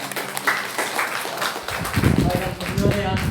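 A church congregation at a Korean Sunday worship service applauds, a dense patter of many hands clapping that swells and keeps going, with a voice speaking over it.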